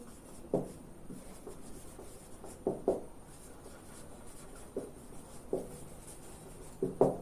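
Writing on a board during a classroom translation lesson: quiet, close scratching strokes broken by sharper taps, in short uneven bursts over a low background hum.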